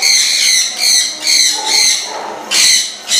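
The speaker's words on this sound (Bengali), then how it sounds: "এই হচ্ছে আফ্রিকান গ্রে প্যারট।" An adult African grey parrot gives a series of loud, harsh, harmonic calls, about six repeated squawks in a fairly regular rhythm, close by and alone.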